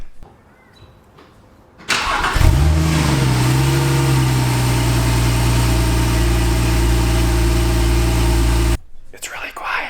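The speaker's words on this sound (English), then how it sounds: "Stock exhaust." A Porsche 997.2 911 Turbo S with its stock exhaust cranks and fires up, the engine settling into a loud, steady idle that holds for several seconds before cutting off abruptly, heard up close after a quiet moment with faint whispering.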